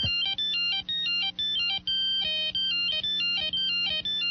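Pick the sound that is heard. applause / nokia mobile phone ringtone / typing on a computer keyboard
nokia mobile phone ringtone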